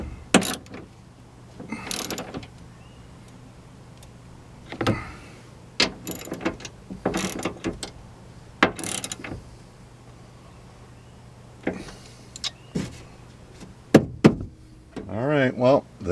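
A ratchet wrench tightens the battery hold-down bolts on a 2017 Chevy Silverado 1500 with a 5.3 liter engine. Quick bursts of clicking ratchet strokes come between pauses, close and fairly loud, and someone talks in between.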